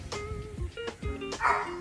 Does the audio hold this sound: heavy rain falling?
no